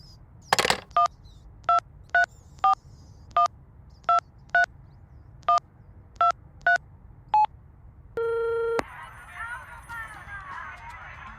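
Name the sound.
telephone dialing tones on a cordless phone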